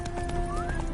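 Roach, the horse in the video game Witcher 3, neighs while hooves clip-clop steadily nearby, a short burst of whinny over rhythmic hoofbeats.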